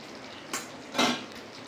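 Paneer curry with kasuri methi and butter being stirred in a pot, with two short scraping clinks of a utensil against the pot over a quiet background.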